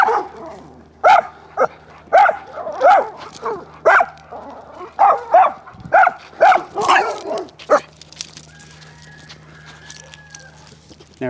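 A leash-reactive dog on a walk barks in a loud, rapid volley of repeated woofs close by, then goes quiet, leaving only faint outdoor background.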